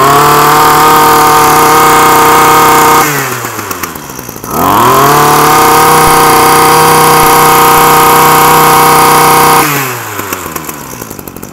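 A used Japanese K3 brush cutter with a 33 mm two-stroke engine, pull-started and run loud and close: a steady high buzzing idle, a drop in pitch as the throttle eases, then a climb back to a sustained rev that falls off again near the end.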